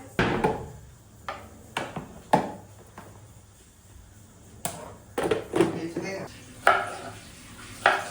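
Red pepper is chopped on a board in a home kitchen, with irregular knife knocks close by, some in quick clusters, and light kitchen clatter between them.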